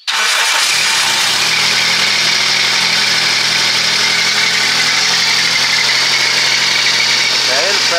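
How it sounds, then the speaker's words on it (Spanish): A Daihatsu Feroza fitted with huge 54-inch tyres cranks and fires up, then settles into a steady, loud, close idle with a faintly uneven mechanical note throughout. "vamos a arrancarlo a ver cómo está el estado del motor"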